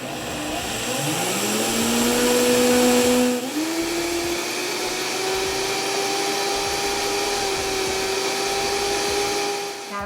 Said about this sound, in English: We are going to blend them in my handy dandy Vitamix.